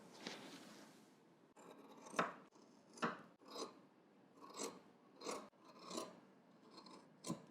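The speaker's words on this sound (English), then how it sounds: "we're just going to trim some of this off here" Scissors trim fabric seam allowance while sewing a garment, a series of about eight crisp rasping snips in an uneven rhythm, close and fairly quiet.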